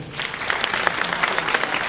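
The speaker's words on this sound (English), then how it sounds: "Let's give them a round of applause." Steady applause from a hackathon audience, many hands clapping together in a dense, continuous patter for a couple of seconds.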